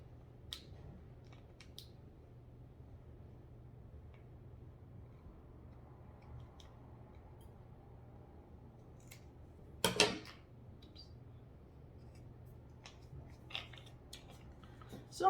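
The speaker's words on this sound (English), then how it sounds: "I'm just using my regular kitchen scissors." Kitchen scissors snip a few times while trimming a wooden cutout, mostly quiet with one louder cut midway and brief snips after, close up with no talking.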